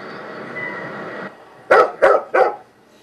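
Dogs bark three times in quick succession, loud and close, after a steady low rumble of background noise fades.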